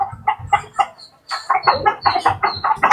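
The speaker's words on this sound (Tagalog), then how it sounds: "May nag-iingay na sisiw mga kanokis." Young chicks and hens peep and cluck in a backyard, a rapid series of short, loud calls close by, broken by a brief pause, with no talking.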